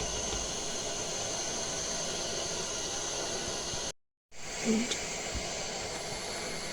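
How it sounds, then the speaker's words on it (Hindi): A pot of water boils with a steady hiss and bubbling, interrupted by a brief silence before the seething resumes. "पानी में बबल्स पड़ने लगे हैं।"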